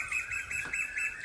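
Several birds chirp in quick, repeated bursts of short calls, fairly close and steady across the moment, with no talking over them.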